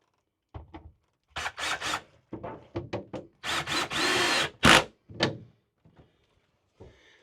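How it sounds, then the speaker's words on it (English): A power drill drives screws back into an RV panel in a run of short and medium bursts, close and fairly loud, with brief gaps between pulls of the trigger. "So I'll go ahead and start putting the screws back into this thing."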